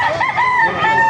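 A lemon sweater gamecock rooster crows loudly and up close at a poultry market, one short full-throated call with a wavering tone.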